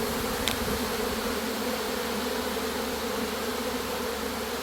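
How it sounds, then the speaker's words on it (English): A swarm of honeybees pouring out of a hive, a dense continuous buzzing drone that stays loud and steady throughout, close by. "There's like a flood of bees."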